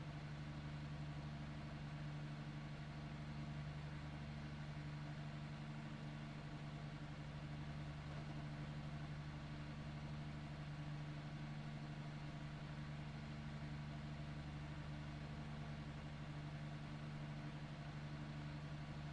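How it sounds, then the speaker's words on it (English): A steady, low car engine idle in the iRacing video game hums continuously without change, a faint, even rumble with no voices. "There's an engine."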